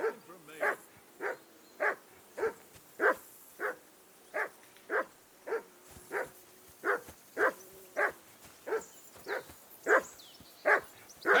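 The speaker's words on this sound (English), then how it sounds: "Call that dog to heel!" A dog in the video game Kingdom Come: Deliverance II barks repeatedly in a steady rhythm, about two barks a second, each one sharp and fairly close, with no talk over it.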